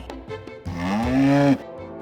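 A buffalo lows once in a long, loud, rising moan that lasts close to a second, preceded by a few short low grunts, close by with no talking.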